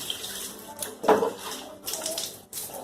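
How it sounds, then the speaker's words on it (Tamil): Water is scooped and poured from a tumbler over a baby during a bath, making splashing, trickling pours in a few uneven bursts, close by and fairly loud. "இனி அதுக்கப்புறமா வந்து நீங்க டம்ளர்ல இந்த மாதிரி தண்ணி கோரி ஊத்திக்கலாம்"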